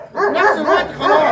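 A guard dog barks in three loud, close bursts at a steady rhythm, with someone talking briefly over the barking.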